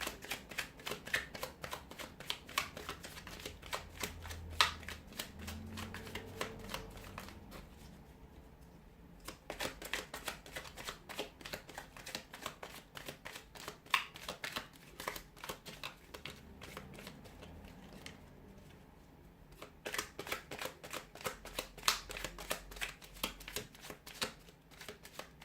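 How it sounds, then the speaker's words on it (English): A deck of tarot cards riffled and shuffled by hand in repeated bursts of rapid flutter, quiet and close, with short pauses between rounds and no talking. "give the cards a shuffle"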